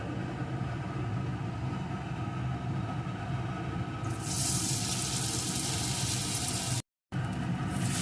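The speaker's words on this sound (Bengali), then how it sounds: "এখন আমি ওই কোপ্তাগুলোকে একে একে দিয়ে এর মধ্যে ভেজে নিই" Koftas made from green plantain drop one by one into hot mustard oil in a wok. A steady background rush gives way midway to a bright, loud, continuous sizzle that carries on to the end.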